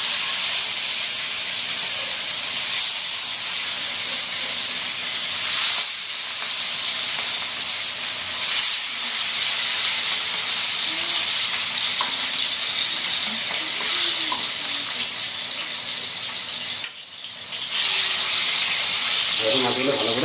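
Marinated fish, katla for doi katla, frying in hot mustard oil gives a steady, close sizzle and hiss that runs unbroken throughout, dipping briefly near the end, with faint stirring sounds.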